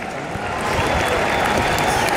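A crowd in a baseball video game cheers and applauds, a dense roar of many voices that swells slightly partway through and then holds steady and loud.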